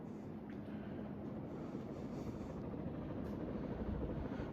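Murray Feiss Hugger 52-inch ceiling fan running on high speed, a steady low whooshing hum with faint airy rushing, constant and close, no talking.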